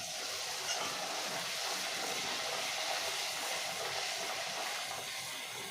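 Pea-stuffed kachori, rolled into puri shapes, fries in hot oil with a loud, even hiss that holds steady throughout and never breaks.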